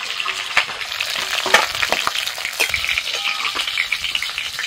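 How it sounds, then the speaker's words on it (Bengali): Ginger, garlic, onion and green chilli paste frying in hot oil beside a fried fish head, a crackling sizzle close by with scattered sharp pops and spoon scrapes over a constant hiss. "আদা রসুন পেঁয়াজ ভাজা হয়ে গেছে"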